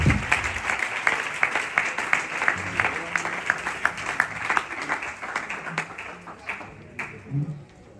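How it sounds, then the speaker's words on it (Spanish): A church congregation at a Spanish-language worship service claps loudly in a dense, sustained burst of applause that lasts the whole stretch, swelling and thinning slightly with a few scattered voices. "Y recibimos la palabra con un fuerte aplauso"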